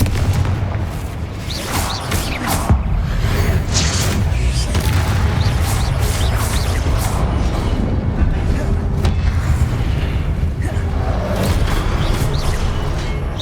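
Confringo blasting spells exploding during combat in Hogwarts Legacy, a loud, dense barrage of booms and rumbling impacts that runs continuously, with a voice heard at moments.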